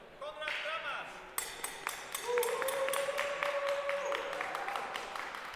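A crowd claps and cheers at the sword and buckler finals of a HEMA fencing tournament in Vilnius, steady applause swelling in a hall as a tone rings out and an announcer talks over it.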